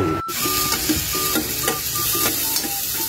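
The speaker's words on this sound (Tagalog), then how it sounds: "ginigisa na natin yung sibuyas, bawang at luya" Onion, garlic and ginger sizzling and being stirred in a hot pan for a mussel dish, with steady frying crackle and scraping stir strokes close by.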